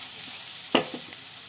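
Onions sautéing with salt in a pan on the stove give a soft steady sizzle, broken by a single scraping stir and a couple of faint clinks.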